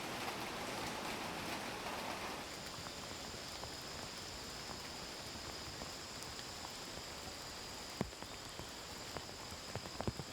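Heavy tropical downpour in Guyana's rainy season, a steady hiss of rain on surfaces with a few sharper drips and knocks toward the end, no talking.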